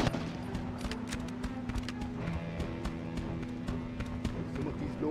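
Rapid bursts of gunfire in the war video game Mercenaries 2: World in Flames, sharp repeated shots scattered across a busy, steady backdrop of game sounds and music.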